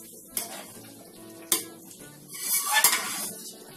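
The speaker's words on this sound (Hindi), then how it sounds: "और मसाले डालने के बाद में एक बार अच्छे से मिक्स कर लेंगे इसे।" A spatula clinks and scrapes against a pan while a jackfruit curry with garam masala is stirred, with a few sharp metallic knocks over a soft sizzle that swells toward the end.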